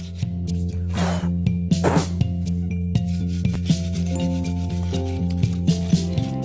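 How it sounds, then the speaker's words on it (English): Sandpaper rubbing the edges of a cement stone piece, repeated short scraping strokes up close with small clinks, over a steady low background hum. "if you're going to use some sandpaper to smooth out the edges, you're using sandpaper on stone"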